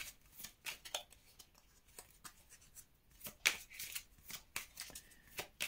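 A Petit Lenormand deck of cards is shuffled by hand at close range in quick, irregular riffling bursts with short pauses between them.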